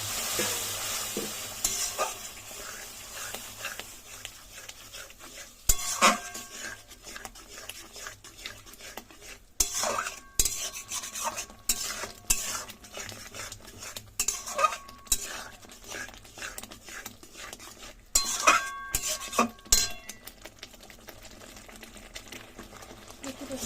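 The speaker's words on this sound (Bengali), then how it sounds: "সমানে এটাকে নাড়তে হয়, মানে কিন্তু কড়াই লেগে যাওয়ার ভয় আছে।" Fish being stirred through spiced masala in a wok (kadai), with repeated scraping and clinks of a spatula against metal over a steady background sizzle, fairly close and without talk.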